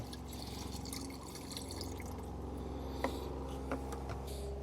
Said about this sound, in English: let's just waste as much of the leftover water from this bottle as possible